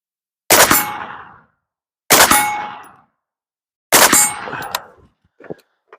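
Three sharp gunshots with ringing metallic clangs from a steel three-quarter silhouette target, evenly spaced and loud, each decaying into a short ring, followed by a couple of faint small clinks.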